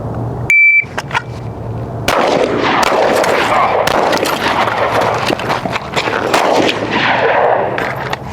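Gunshots ring out during a timed shooting drill at an outdoor range. A shot timer beeps first, then a string of sharp, loud reports follows. Nearby shooters add echoing fire in the background.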